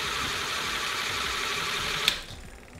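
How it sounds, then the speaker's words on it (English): Small electric motor driving a Lego train container terminal hums steadily up close with a whirring buzz, then a sharp click as it stops and the sound drops away. "Let me just stop the motor a bit"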